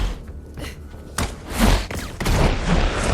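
Gunfire in the video game Borderlands 3, a loud burst of heavy shots and thuds close up, layered over game sounds with no pause.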